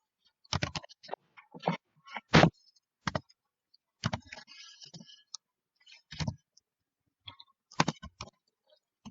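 Typing on a computer keyboard while filling in a Word document, irregular bursts of sharp key clicks, close and fairly quiet, separated by short pauses and no talk.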